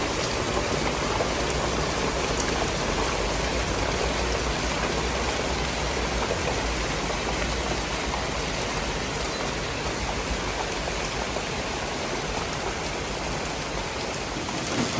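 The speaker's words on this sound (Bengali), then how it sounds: "সকালে দেখলাম কত রোদ আর এখনো ঝোরে বৃষ্টি পড়তেছে" Heavy rain pours down in a dense, unbroken wash of noise, steady and even throughout with no voices over it.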